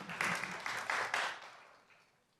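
Brief burst of applause at a county commissioners meeting, clustered and fairly distant, tapering away to quiet within about two seconds.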